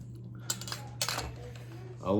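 A knife trims fat from a smoked brisket cooked on a Masterbuilt 800 Gravity Series smoker, making a few short scraping cuts and clinks against a board over a low hum, with brief speech at the end.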